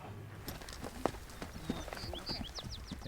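Friendly guest-ranch horses walk with soft, uneven hoof clops against faint outdoor ambience, the steps fairly distant and quiet with a few sharper knocks.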